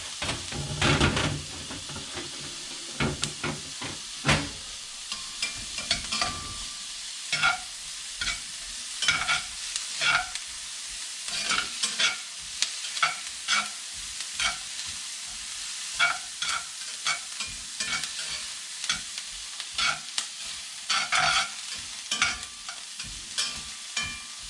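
Food fries in a pan throughout, a steady hiss and sizzle broken by frequent scraping and stirring clatter from a utensil, with no voices.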